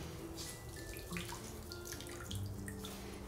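Water being wrung from a sponge over a tub during paper making, a steady soft trickle and splashing that stays quiet and close, with no voices.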